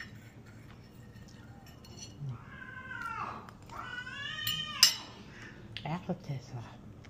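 Pet cats meowing at dinnertime at home, several drawn-out, wavering meows in a row, fairly close, followed by light clinks of dishes against a quiet room background.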